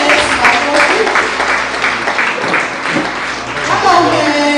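Church congregation clapping through a Sunday second service, a dense, loud, steady patter of many hands filling the hall, with a voice and other voices mixed in.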